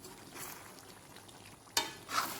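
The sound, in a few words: stirring meat in a wok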